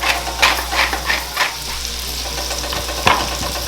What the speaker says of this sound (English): we're going to cook the onions for a couple of minutes before we add the garlic